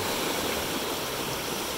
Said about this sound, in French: c'est des chemins comme ça le long de la roche et il y avait des endroits où c'était plus profond que d'autres avec des grosses vagues